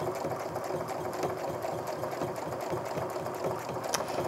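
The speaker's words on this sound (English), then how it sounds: "if you listen, you can hear that the machine is going really steadily. It's not like taking off and going, it's just at a nice medium speed" A home sewing machine quilting with rulers, stitching at a steady medium speed with an even, rapid mechanical chatter that holds without speeding up or stopping.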